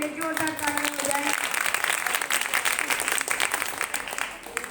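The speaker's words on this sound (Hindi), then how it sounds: "एक बार इन सभी बच्चों के लिए जोरदार ताली हो जाए।" An audience at a spiritual discourse breaks into loud applause for a children's tableau performance; a voice talks at the start, then dense clapping carries on steadily.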